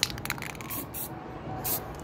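Cleaner sprayed onto a Yamaha Mio i 125 magneto, close hissing aerosol bursts in short pulses, with a couple of faint scrapes between them.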